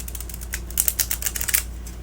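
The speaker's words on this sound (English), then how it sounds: "Even though it is a chunky deck and it's kind of stiff, it does shuffle all right." A chunky, stiff tarot deck of cat-themed cards is shuffled up close, giving a quick run of crisp, clicking card snaps in a burst of about a second, with no voices.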